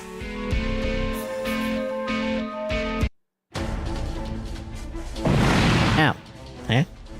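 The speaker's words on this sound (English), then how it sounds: "another explosion!" Explosion sound effects from the mecha video game Super Robot Wars V, a loud crackling burst following game music and a brief silence, with another short blast near the end.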